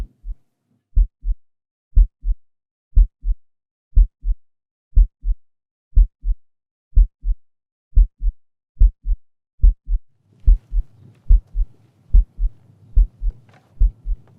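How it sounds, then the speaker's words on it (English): A human heartbeat picked up under the rib gives steady paired lub-dub thumps, clear and close, about one per second, with a faint hum creeping in toward the end. "Can I capture your heartbeat on recording, please?"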